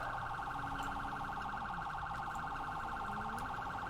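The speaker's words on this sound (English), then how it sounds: "Siren check." Police car siren in a video game roleplay, a steady electronic wail running loud and continuous through the whole stretch with a low engine rumble underneath.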